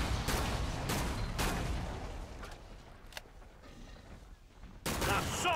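Sharpshooter rifle fire in Killing Floor 2 on the Spillway map: several sharp, heavy shots ring out at irregular intervals, loud and close, with quieter game noise between them.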